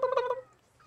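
A human voice imitates a turkey with one quick warbling gobble, close and fairly loud, fading within half a second.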